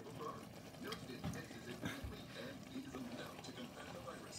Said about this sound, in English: But I will drain a lot more out.